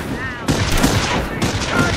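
Gunfire rattles in the WWII strategy game Company of Heroes during the Falaise Pocket battle, a loud, dense burst of overlapping shots and booms that pounds close up for two seconds, with shouted voices mixed in.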